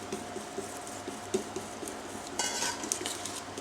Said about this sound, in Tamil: சேர்த்து மாவை நல்லா கலக்கிக்கணும்.